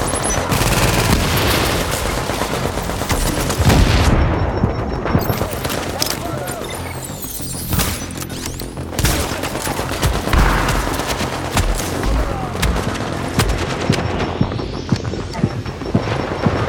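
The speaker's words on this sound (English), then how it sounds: "Oh, there's a grenade." Rapid automatic gunfire and heavy blasts, including a grenade explosion, crackle and boom in dense bursts during a firefight in The Division, with a player speaking in between.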